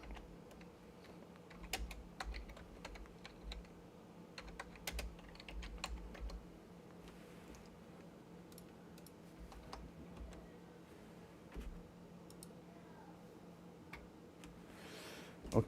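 Quiet, irregular typing on a computer keyboard, with bursts of key clicks and pauses between them, heard alone without talk.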